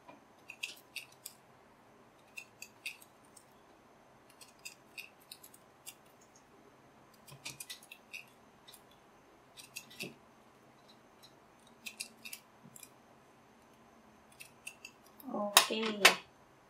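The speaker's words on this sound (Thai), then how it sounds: "ก็ใช้กรรไกรซิกแซก" Zigzag scissors snip through ribbon in a series of short, crisp cuts spaced out over soft background noise, ending with a louder cluster of rustling and snipping.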